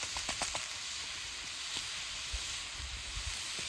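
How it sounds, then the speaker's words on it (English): Onions and carrots frying with beef in a pan over a campfire, giving a quiet steady sizzle and hiss with a few faint stirring clicks, with no voices. "Leave that fried off with some onions and carrots."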